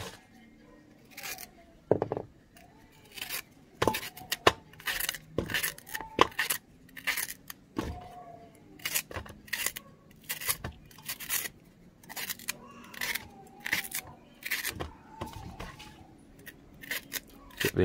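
Scissors snipping cow heel for brown stew, a series of sharp close crisp cuts in irregular bursts with quiet rustling between them, and soft talk now and then.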